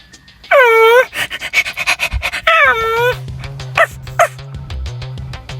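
A dog yelps and whines in high, rising cries, then gives a run of short yips over a low steady hum, close by and loud.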